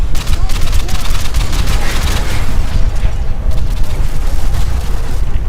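Rapid bursts of gunfire and booms crackle loudly and continuously, dense and chaotic, from a shootout in Call of Duty: Modern Warfare 2.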